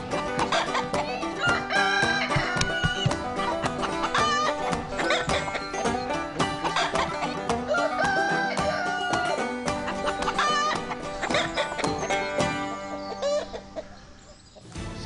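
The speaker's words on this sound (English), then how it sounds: "it's Kev, our psychic chicken from Kiev" A chicken clucks and crows within a dense, busy mix that sounds like music, loud and continuous before fading at the end, during a football show segment predicting Euro match results.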